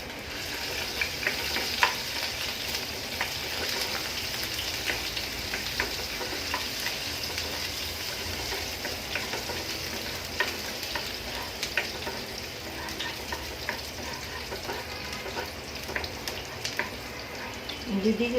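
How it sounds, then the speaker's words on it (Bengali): Onions and cinnamon frying in a pan for chicken biryani make a continuous, even sizzle with scattered small crackles and stirring sounds, steady throughout. "এখানে পেঁয়াজ আর দারুচিনি দিলাম।"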